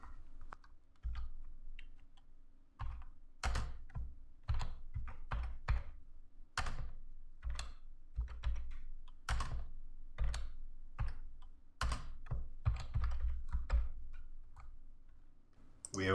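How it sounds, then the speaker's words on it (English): Typing on a computer keyboard: irregular bursts of crisp key clicks with short pauses between, close and clear over a faint steady hum. "And then just type in a small little program to try it out."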